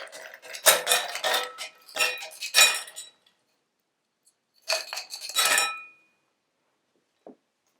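Gin goes over ice in a glass for a bitter lemon highball: a few bright clinking bursts of ice and glass, close and crisp, separated by silent gaps and ending in one last small tick.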